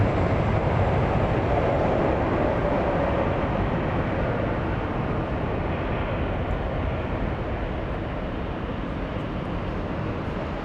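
A KLM airliner comes in to land at Los Angeles International Airport, a steady, loud broadband jet roar that holds for the whole stretch, easing off slightly toward the end with no voices over it.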